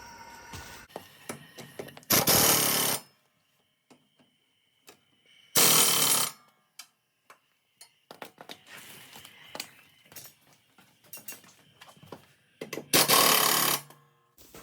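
Toro Z Master 3000 Series mower blade bolts being tightened, with three loud, sustained bursts of a power impact tool or wrench separated by quieter clanks and handling noise, close up, with no speech.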